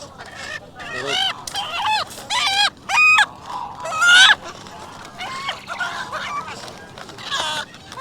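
Chickens squawk and cluck repeatedly at a market in Kuwait, loud and close, in irregular bursts, with some human voices mixed in.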